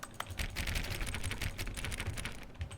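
Rapid keyboard typing clatters steadily throughout, close and continuous, triggered by interacting with objects in the video game The Stanley Parable: Ultra Deluxe.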